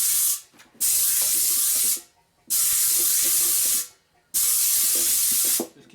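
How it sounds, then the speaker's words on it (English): Compressed air from a hose blasts rust out of a 1950s 15-inch split-rim tire and wheel, three loud hissing bursts of roughly one to two seconds each, separated by short silent gaps. "Just keep blowing until you don't see no more rust in the rim, in the tire, or coming out."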